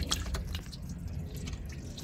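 Old yellowed coolant draining in a steady stream from a clogged car radiator, a continuous close trickle and drip of liquid with no voices.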